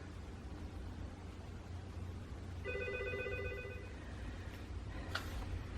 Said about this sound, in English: the phone rang, as you heard